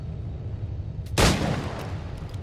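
A single gunshot from Assassin's Creed 4 Black Flag, a loud close crack with a short decaying tail standing out from a steady low background rumble.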